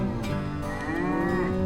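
Cattle moo in an open field, with a steady low drawn-out lowing and a few overlapping calls at middle distance over a constant background hum, and no talking.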